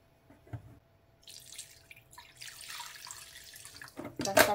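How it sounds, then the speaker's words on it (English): Water poured from a cup into a bowl of cornmeal for Jamaican porridge, a steady splashing trickle over about three seconds, close and moderately loud, ending in a brief louder clatter. "we're going to add a cup of water to this bowl"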